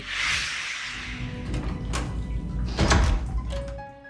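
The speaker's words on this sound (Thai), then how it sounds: "เอ็กโก้ได้เปิดประตูมาช่วยวาย" A door swings open in a scene from the animated series Arcane, a few knocks and thuds over a dense, busy background with no talking.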